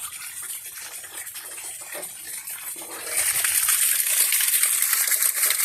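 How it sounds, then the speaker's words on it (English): Water gushing from a hose into a barrel, a steady wet rush that swells louder and brighter partway through and then keeps pouring. "I'll let that run for a while. There, I stuck my hose in there."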